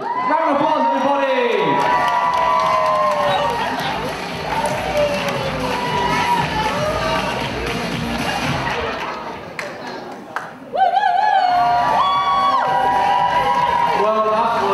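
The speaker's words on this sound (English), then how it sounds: "Round of applause, everybody!" A studio audience at a blind-date game show claps and cheers loudly, a dense continuous roar of applause with whoops, briefly dipping before a fresh burst of cheering and shouts near the end.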